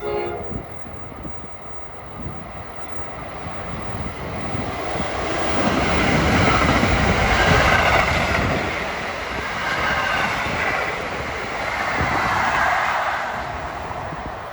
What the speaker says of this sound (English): Got another fast train going north.